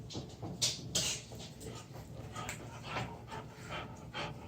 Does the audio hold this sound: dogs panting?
yes